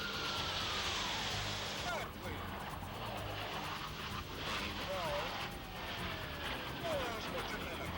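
F-18 Hornet jet performing at an airshow, a distant broad roar that swells and fades with passing whooshes and a faint tonal whine, under narration.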